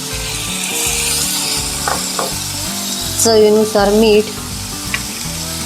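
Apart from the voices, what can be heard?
onion and tomato frying in a pan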